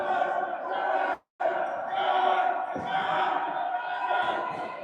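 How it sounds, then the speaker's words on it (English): A rugby crowd at a Fours match between Leicester Tigers and West Coast Crash roars and shouts loudly in the closing seconds, a sustained mass of voices broken by one brief silent gap. "Big shouting from the crowd"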